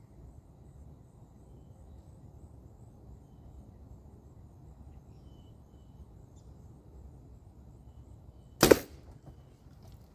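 An arrow loosed from a bow gives a single sharp, close snap near the end, after a long stretch of quiet low background.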